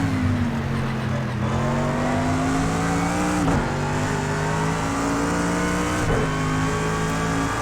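Several Aston Martin race cars roar in a racing video game, a sustained loud engine drone with pitch that rises and dips as they rev and shift, plus faint tire squeals.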